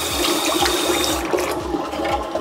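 Water drains noisily from a sink after its plug is pulled during aquarium maintenance, a steady loud rushing gurgle that fills the whole stretch with no talking.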